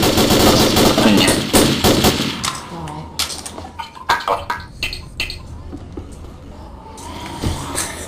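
Shotgun blasts and gunfire in Left 4 Dead, dense loud shooting at first, then separate sharp shots and clanks thinning out, with voices chatting faintly in the background.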